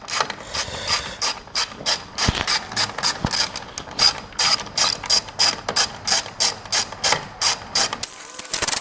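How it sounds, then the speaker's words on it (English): Ratchet wrench unscrewing 10 mm bolts from the grille of a Ford F150 Tremor, a fast run of close, loud ratcheting clicks with a couple of sharp knocks, no talk. "It's a 10 millimeter. So we are just going to unscrew these."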